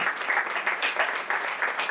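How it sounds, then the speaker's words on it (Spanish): A church congregation claps together in steady, rhythmic applause at moderate loudness, a dense unbroken patter of many hands lasting the full two seconds. "Dar un aplauso al Señor, porque el Dios Todopoderoso habita en nuestros corazones."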